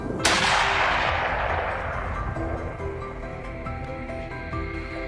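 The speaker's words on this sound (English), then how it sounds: "a rapid barrage of follow-up shots swiftly ended any hope of escape" A rifle shot during a wild boar hunt in open wheat fields cracks sharply once and leaves a long, rolling echo that fades slowly under faint outdoor background.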